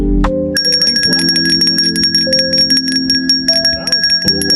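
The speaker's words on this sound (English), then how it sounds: "Sunset Bell." A boat's sunset bell rung by hand on deck: a series of bright metallic strikes in quick, uneven succession, loud and close, each ringing on with a sustained shimmering tone.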